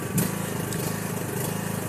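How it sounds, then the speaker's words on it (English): A tractor engine starting up outdoors, a rough chugging mechanical rumble that steadies into a pulsing idle at moderate distance. "Poppy's starting his tractor."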